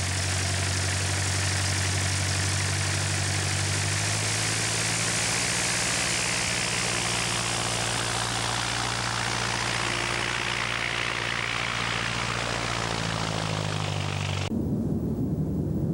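A light aircraft's propeller engine idles steadily and loud at the top of a runway, a low droning hum with harmonic tones that rises slightly before cutting off abruptly near the end.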